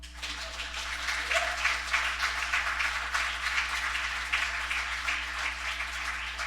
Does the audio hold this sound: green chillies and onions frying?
no